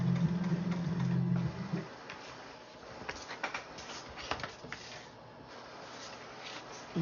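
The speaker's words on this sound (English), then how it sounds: "So let's go ahead and get our first print done." Sawgrass SG500 sublimation printer running a print job, a soft whirring mechanical hum at first followed by faint clicks, rattles and shuttling sounds from the print head, quiet and close.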